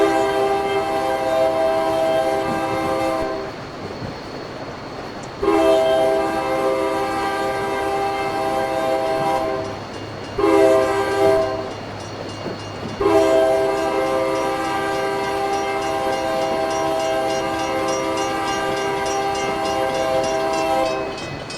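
A diesel locomotive horn in the Railworks train simulator game, recreating a line east of Aurora, sounds long, loud chords in several blasts with short gaps, over a low rumble of the moving train.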